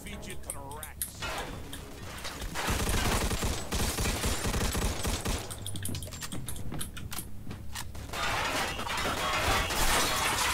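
Gunfire in Mafia II Definitive Edition rattles in rapid bursts during an office shootout, sharp and close, mixed with cracking impacts, while someone talks over the action.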